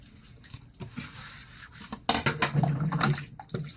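Plates and dishes are washed by hand, ceramic clinks, knocks and scraping rubs in an irregular patter, close and moderately loud with louder clatter toward the end.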